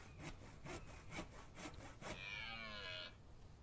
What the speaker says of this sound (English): Sound like a very unhappy cow. Oh, it's a deer.